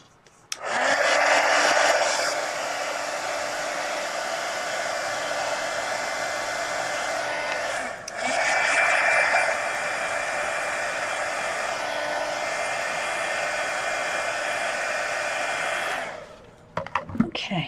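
A hair dryer blows over a napkin-decorated art journal page, a loud steady whirring roar that runs for several seconds, dips briefly, then resumes before cutting off near the end, with no one speaking.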